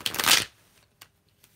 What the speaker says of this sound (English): I'm going to shake these cards up a little bit more.